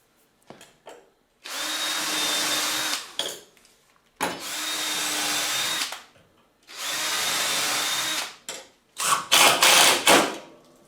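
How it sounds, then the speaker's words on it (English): A cordless power drill drives screws into the metal bed of a riding mower in three long, steady whirring bursts, then a couple of short choppy pulses, loud and close with quiet gaps and no talk. "I'm going to put some screws in there on both sides."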